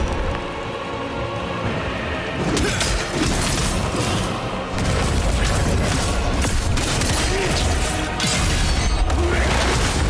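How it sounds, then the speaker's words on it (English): Explosions during the Ozma boss fight in Khazan: The First Berserker, a dense, loud barrage of booms and thuds layered over continuous rumbling noise, with a sharper burst partway through. "Explosions."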